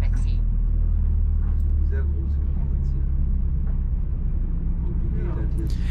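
A camper van rolling across a large open lot toward a barrier at a motorhome stopover in Spain, its engine a steady low rumble throughout, with a few faint knocks and rattles and a voice talking over it.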